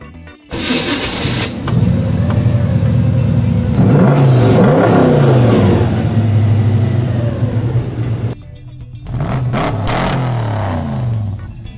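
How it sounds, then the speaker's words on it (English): 383 fuel-injected V8 in a 1979 Chevrolet G20 van revving: loud, close engine roars rising and falling in repeated pulls, broken by a brief lull before another burst. "This is a 383 fuel injected V8."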